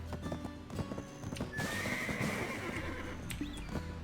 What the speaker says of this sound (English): I could slow my horse down